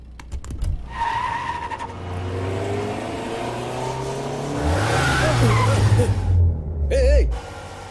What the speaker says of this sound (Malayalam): അതായത് സ്പീഡിൽ പോയിട്ട് ഇടിക്കുന്നത് പോലെ നിർത്തണം